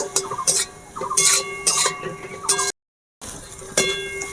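A spoon scrapes and clinks against a pan while ginger, green chilli and garlic paste are stirred, giving several bright metallic taps in quick clusters, followed by a brief silent gap.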